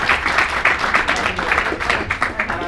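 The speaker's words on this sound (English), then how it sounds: "Give a huge round of applause for Warren and Claire." An audience at a live marketing event in London claps continuously in a dense, sustained wave of applause, fairly close and steady throughout, with no pauses.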